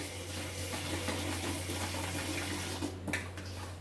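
Water from a kitchen tap runs in a steady, fairly close rush during dishwashing, with a few faint clinks near the end and a low hum beneath.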